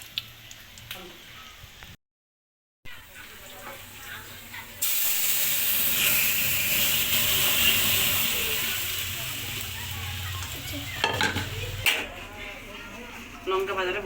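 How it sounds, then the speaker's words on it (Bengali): Onion and chilli frying in a pan on an induction cooker, a steady close hiss that swells loud and fills most of the stretch, with a voice talking and faint clinks before and after. "এখানে এই যে পেঁয়াজ লঙ্কাটা ভেজে নিলাম"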